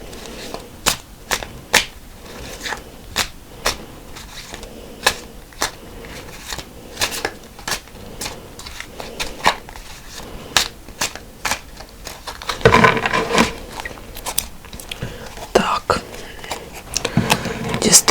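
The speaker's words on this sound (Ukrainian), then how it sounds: "А ми дістаємо по дві карти, щоб не затягувати на гру." A steady series of sharp snaps and flicks as Uno cards are drawn two at a time, with a denser burst of rustling shuffles near the end, close and fairly loud.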